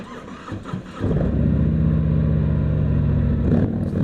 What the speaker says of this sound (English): Start it up like Evel.